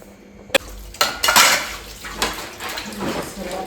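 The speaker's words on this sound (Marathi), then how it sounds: "पटापट सर्व घासून घेते भांडी" Dishes, pots and pans being scrubbed and washed by hand in a home kitchen, with a few sharp clanks and scraping clatters of metal over a running-water wash, fairly close.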